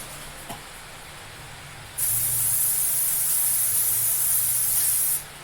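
Cooking spray hisses onto a roasting pan in one steady, loud burst lasting about three seconds, after a brief knock and a quiet pause.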